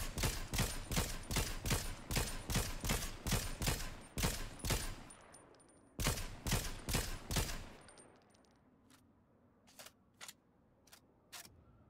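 Rapid bursts of automatic gunfire in a Fortnite match, loud and near, with a dense volley for the first eight seconds, then sparser single shots trailing off; no talk.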